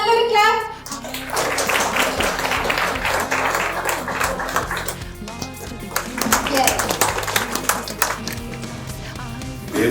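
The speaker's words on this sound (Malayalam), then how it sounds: "എല്ലാവരും നല്ലൊരു ക്ലാപ്പ്." A crowd at the pooja launch of the Malayalam film Madhuramveppu claps in a sustained, busy round of applause. Someone speaks over the clapping into a microphone, and the applause surges again near the end.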